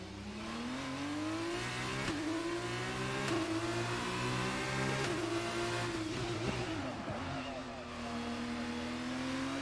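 Race car engine in the F1 22 video game held at full throttle, a loud continuous high-pitched whine with rising and dipping pitch through gear changes, steady and close for the whole stretch.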